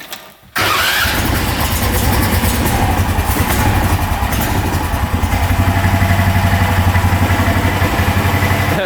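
An Argo 6x6 off-road vehicle's engine catches abruptly with choke applied and settles into a loud, steady, close idle with an even, throbbing rhythm and no talking.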